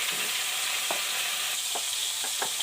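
Cauliflower and peas fry in a pan with salt and turmeric, making a bright, even hiss of sizzling oil with a few soft stirring scrapes, close up and without talk.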